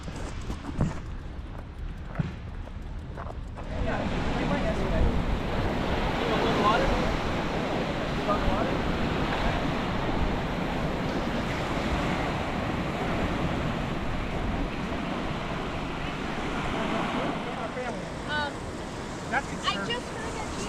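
Ocean surf rolling onto the beach at Hilton Head Island, a steady broadband wash that swells in after a few seconds and holds loud and continuous, with wind noise over it.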